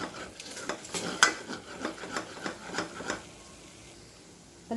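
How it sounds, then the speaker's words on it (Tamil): Maida flour being stirred in a pan over low flame: a spoon scrapes and clinks against the metal pan in a rapid, close rhythm, with a soft frying hiss, then the stirring stops and only a faint hum remains. "லோ ஃப்ளேமில் வச்சு இந்த மாதிரி நல்லா மிக்ஸ் பண்ணிக்கோங்க"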